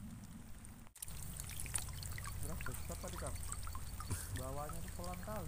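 Steady rain patters continuously outdoors beside a tilapia fishing spot, a dense hiss underneath with intermittent drips, while someone speaks over it in the second half.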